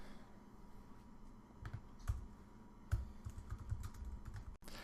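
Code is typed on a computer keyboard, with quiet, irregular key clicks arriving in small clusters and scattered single taps, heard close and alone against a faint background hiss.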